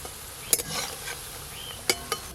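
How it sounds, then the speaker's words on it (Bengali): Prawn-stuffed green banana koftas fry in hot oil on a clay stove, giving a steady soft sizzle punctuated by a few sharp utensil clicks and taps. "এই যে গরম তেলে দিয়েছি, সব ভাজা হয়ে যাবে।"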